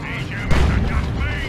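A looted tank's slow-firing cannon in a Warhammer 40K video game lets off a single heavy boom amid a low battle rumble, with a commentator talking over it.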